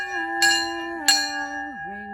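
An old fire brigade bell in Gympie is struck twice, each clang ringing out with a long sustained metallic tone that slowly decays and wavers.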